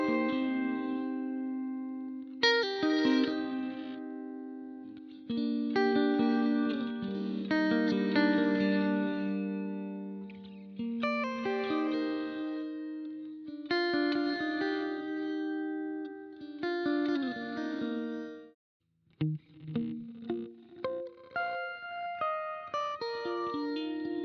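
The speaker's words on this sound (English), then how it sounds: "This next type is the nonlinear reverse type reverb." Boss RV-500 reverb pedal on its nonlinear reverse setting, played chords swelling backward into each attack with a short gated tail, recurring in phrases, then a run of quicker plucked notes near the end, no talking.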